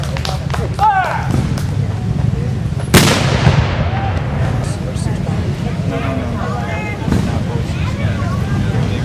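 A ceremonial cannon salute on July 4 fires one loud boom near the three-second mark, its blast decaying into a long rumbling tail, with crowd murmur and voices around it outdoors.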